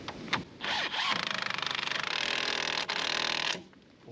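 A pneumatic impact gun rattles steadily for about three seconds on an 18mm strut nut during a front shock replacement. The burst is loud and close, with short handling noises before it and a quick stop at the end.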